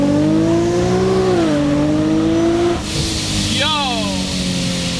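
A supercharged Infiniti G37 with a Vortech supercharger accelerates hard in Tiptronic mode, its engine note climbing, dropping at a gear change, then climbing again as the supercharger whines, with a brief voice near the end.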